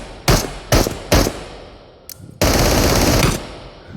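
A Glock pistol fired full-auto in the VR shooter Into the Radius: three sharp single shots, then a brief pause and a loud rapid automatic burst lasting over a second, close and unaccompanied by talk.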